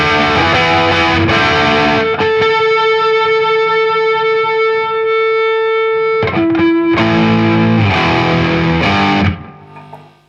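A Gibson SG Special electric guitar plays through heavy distortion with the tone pot at full for a harsh classic heavy metal tone, loud chords alternating with a sustained single note before fading out.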